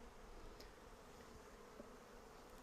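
Honey bees (Apis mellifera) from a recently hived swarm buzz steadily inside a hive box with freshly drawn comb, a faint, continuous low drone with no voices.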